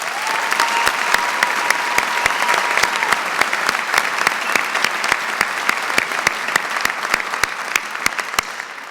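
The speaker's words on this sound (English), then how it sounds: "please join me in giving them a round of applause" Law school commencement audience applauding in a large hall, dense sustained clapping from many people with sharp individual claps standing out, steady and loud throughout.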